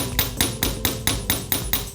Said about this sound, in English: I'm going to wire around the end, and then I'm going to hammer it